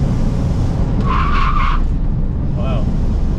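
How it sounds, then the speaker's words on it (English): A Nissan 350Z without ABS skids under hard braking, giving a loud tire squeal of about a second, then a shorter chirp, over constant engine and road rumble. "the whole car like was skidding because there's no ABS"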